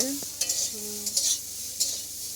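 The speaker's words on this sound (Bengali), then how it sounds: "বন্ধুরা আমি সোয়াবিনগুলো ভেজে নিচ্ছি" Soybean chunks fry lightly in a pan with a soft background sizzle, as a utensil scrapes and clinks in a few quick strokes alongside faint tonal squeaks; no voices.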